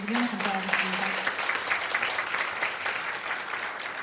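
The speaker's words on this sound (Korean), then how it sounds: "격려의 박수 다시 한번 보내주시면 감사하겠습니다" Encouraging applause from the audience at a 2025 Daejeon youth safety network convention: a dense, even wash of clapping that continues at steady volume throughout, with a brief voice heard near the start.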